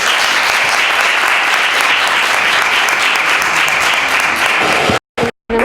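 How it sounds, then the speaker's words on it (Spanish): Audience at an inclusion day arts workshop in Úbeda applauding, loud dense clapping sustained for about five seconds before cutting off abruptly. "Así que un aplauso para ellos."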